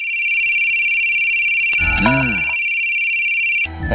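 A loud electronic phone ringtone trills steadily for several seconds, then cuts off abruptly, with a brief burst of other sound in the middle.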